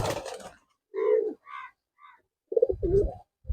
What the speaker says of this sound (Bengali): এই যে পায়রাগুলো একবার দেখে দাও সব পায়রাগুলো